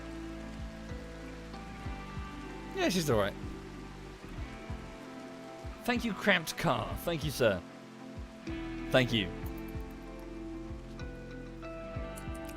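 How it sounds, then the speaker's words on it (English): Rain falls in the RimWorld video game as a soft, continuous patter in the background, while someone talks over it. "Okay, the rain seems to be easing up a bit."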